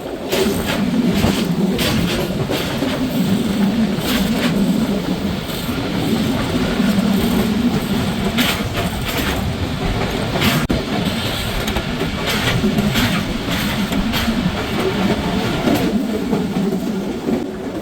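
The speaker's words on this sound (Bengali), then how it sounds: "এখন ট্রেনটি থ্রুপাস করে যাচ্ছে আজিমনগর রেলওয়ে স্টেশন" Tungipara Express running non-stop from Rajshahi toward Ishwardi and passing through Azimnagar station without halting: a steady, loud rolling rumble with rhythmic wheel clatter throughout, close by and with no talk.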